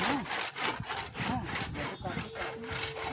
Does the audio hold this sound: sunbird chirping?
no